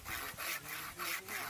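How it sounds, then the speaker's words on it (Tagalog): A hand saw cuts through firewood in steady back-and-forth strokes, about five rasping passes in quick rhythm, close and fairly quiet with no talk over it. "Lagari na po. Lagari na naman."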